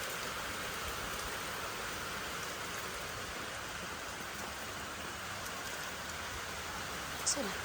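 Steady, even rain hiss on an old village house in Konkan fills the whole stretch at moderate level, with a single brief bump near the end.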